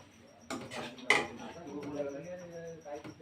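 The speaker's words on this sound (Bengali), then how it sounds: "আমি প্লেটের মধ্যে সব তুলে নিচ্ছি" Metal utensils clink and scrape against a plate and pan as spinach paneer is served, a few light clatters with one sharper knock, close by and fairly quiet, with faint voice in the background.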